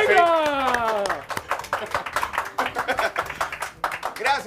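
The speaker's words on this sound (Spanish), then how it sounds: "Y te aplaudan, Edwin, ¡venga!" Enthusiastic clapping from a small group, quick and uneven, rising after an excited shouted call and continuing for several seconds.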